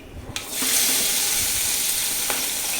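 Chopped vegetables land in hot oil with popping mustard seeds and set off a loud, steady frying sizzle that starts abruptly and stays close and continuous to the end, with no talking over it.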